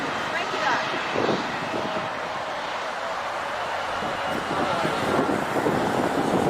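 Loud, broadband roar of Gulfstream business-jet engines at an airfield, sustained throughout with wind buffeting the microphone and swelling slightly toward the end.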